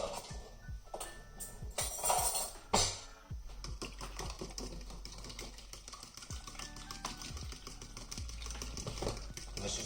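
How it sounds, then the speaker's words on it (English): Quick tapping clicks of a whisk against a bowl as milk is beaten into eggs, a fast irregular rhythm heard up close with no voices. "Then we're gonna whisk this up."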